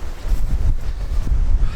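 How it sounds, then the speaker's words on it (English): Strong wind blowing outdoors in a storm, heavy buffeting gusts roaring close against the microphone for the whole moment, no voices. "Well, that wind doesn't let up any."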